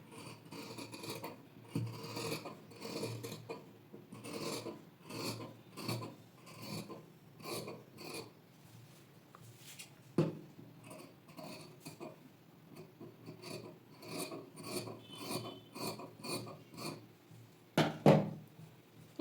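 Scissors cut through blouse fabric along marked lines in a series of rhythmic, close rasping snips that pause now and then, with a sharper clack near the end.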